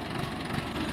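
Tractor engine idling in the Farming Simulator video game, a steady low rumble with even vibration and no talk over it.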